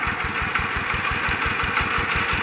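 Close and loud, the engine of a homemade multi-purpose water pump chugs with rapid, even firing pulses in a steady rumbling rhythm, with no talk.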